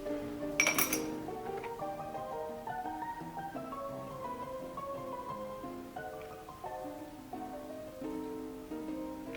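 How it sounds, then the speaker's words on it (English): A cocktail is strained into a chilled cocktail glass. A bright glass clink sounds near the start, followed by soft ringing, tinkling tones that continue at a moderate level with no talking. "we'll just strain that into a chilled cocktail glass"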